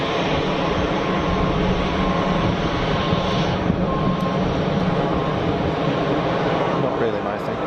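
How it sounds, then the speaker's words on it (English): A dark-coloured aircraft at Geneva Airport produces a steady, broad engine roar that holds at an even loudness throughout, with no breaks or distinct events. "I'm not sure whether I like dark coloured aircraft like that"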